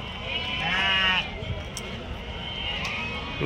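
Sheep bleat at a weekly Saturday sheep market, one drawn-out bleat up close and another fainter call later, over steady crowd murmur and market noise.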